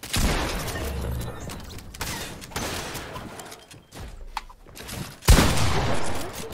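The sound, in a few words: gunfire in a video game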